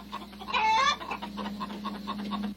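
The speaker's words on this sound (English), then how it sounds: "chicken." A short, bright chicken cluck with a rising cackle, about half a second long, from a 1970 Sesame Street song about a drive to the country. It rises over a steady low musical hum, with fainter rhythmic pulses continuing after it.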